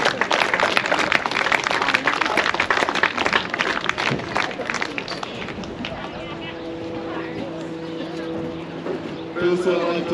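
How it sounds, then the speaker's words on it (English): Crowd at a U19 boys softball championship grand final ceremony claps steadily, dense and fairly close, easing off after several seconds as voices and background chatter take over. "So round of applause for everyone that did their part this weekend."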